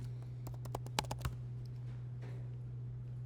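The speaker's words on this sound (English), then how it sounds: "I'm typing in Grasshopper into the command line to open up our Grasshopper plugin." Typing on a computer keyboard, a quick burst of sharp, close key clicks followed by a few softer, scattered taps over a steady low electrical hum; no talking.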